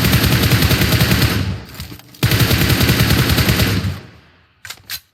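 Rapid automatic gunfire in PUBG Mobile rattles in two loud, close bursts separated by a short pause, followed by a couple of scattered single shots.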